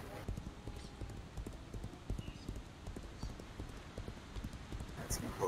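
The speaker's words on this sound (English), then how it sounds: "I found a horse." Hooves clip-clop steadily on the ground from a horse in the Legends of Aria video game. A faint whinny may come near the end, under a voice talking throughout.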